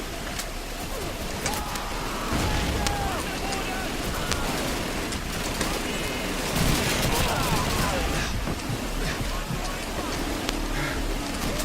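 Battle sounds from a war video game, with dense crackling gunfire and bursts of explosions rolling on continuously, loud and chaotic, with a voice talking over parts of it.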